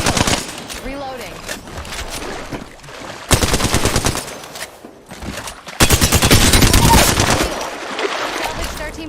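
Rapid automatic gunfire in Call of Duty: Modern Warfare II, loud, dense bursts of repeated shots that come in long sustained volleys, broken by quieter stretches with game sounds and brief voice lines.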